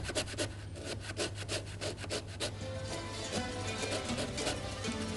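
Orange peel being grated for cake zest, only the coloured outer layer, producing a rhythmic rasping scrape of quick regular strokes that blur into continuous rubbing, close and fairly loud with no speech.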